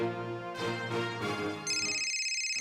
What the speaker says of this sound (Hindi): अरे मोबाइल बज रहा है, आपको सुनाई भी नहीं देता